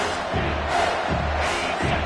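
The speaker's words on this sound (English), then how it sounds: "Decibels rising as the crowd gets behind this defense on third down" A home crowd at a college football game roars steadily on a third-down defensive stand, a dense, swelling wall of noise with faint pulses of rising intensity.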